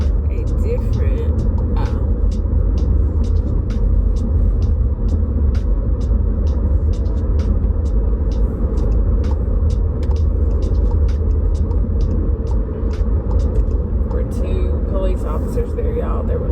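A car driving along, heard from inside as a steady low engine and road rumble with faint regular ticking clicks above it, continuous throughout.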